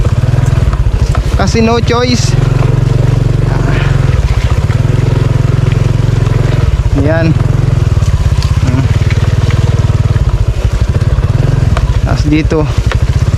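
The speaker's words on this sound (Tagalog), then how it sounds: "Itong motor na ito mga kasinag, kaya ganito ang kinuha kong motor." A motorcycle engine drones loud and close throughout as the bike churns through deep mud, revving steadily with brief surges, while someone talks over it.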